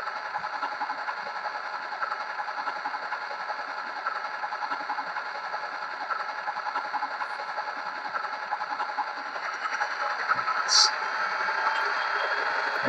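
A Rapido F40PH-2D model diesel locomotive, limited-edition Canada 150 livery, gives a steady droning engine hum that builds slightly louder near the end as it revs toward full, with a short bright tone near the close.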